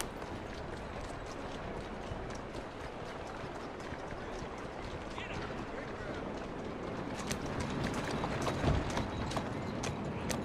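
A horse walks in the video game Assassin's Creed Syndicate, its hooves clopping in a steady rhythm with harness jingles over a busy ambient background, growing slightly louder toward the end.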